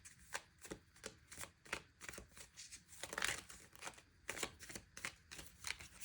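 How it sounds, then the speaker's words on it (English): Oracle cards are shuffled by hand in a quiet room, giving a soft, steady rhythm of papery riffles and slaps that repeats close by at low volume. "Okay, so we're going to pull a few more oracle cards."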